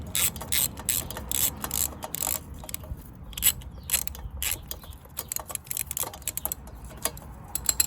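A long-threaded bolt is wound out of a KTM 1290 Super Adventure motorcycle exhaust clamp with a ratchet, giving close, rapid clicking in steady bursts with short pauses throughout.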